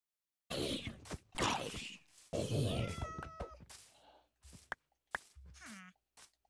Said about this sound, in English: Oh, there's a cat there.